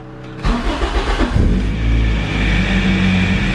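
A Toyota 20-valve engine cranks briefly, then fires on a cold start and revs, settling into a loud, close, rumbling run.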